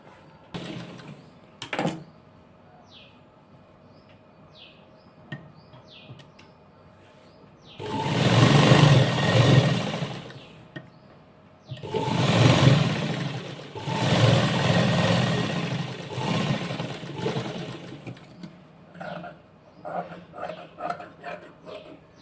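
A sewing machine stitches the lining of a sleeve in two long bursts of close, loud whirring with a short pause between them, and quieter rustling and handling noises before and after.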